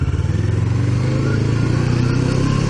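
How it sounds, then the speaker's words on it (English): A motorcycle engine drones steadily and loudly nearby, a rough, continuous rumble with a faint rhythmic pulse and no talking over it. "What the hell's that noise? Oh, there's a bike."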